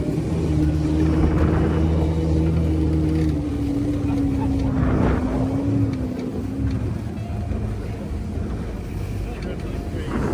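A 60-year-old boat's old outboard motor running over waves, a steady loud drone with a wavering tone under heavy wind buffeting on the microphone, sustained throughout.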